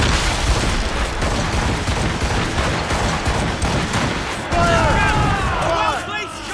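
Naval cannons firing during a sea ambush in Assassin's Creed Rogue: a dense, rumbling volley of booms and crashes with shouting voices, then a sharper burst of splintering noise at the end.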